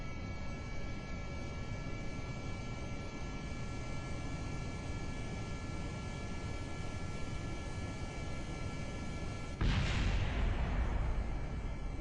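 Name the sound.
jet engines throttling up in Kerbal Space Program, a video game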